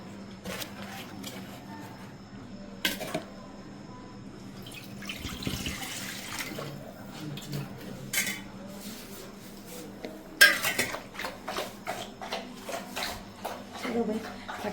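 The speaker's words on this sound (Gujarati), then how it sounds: "ચલો ભાઈ ફટાફટ વાસણ ઘસી નાખે" Dishes, pots and utensils get washed in a home kitchen: water runs faintly and scattered clinks and clatters of metal vessels come in irregular bursts, closer and livelier toward the end.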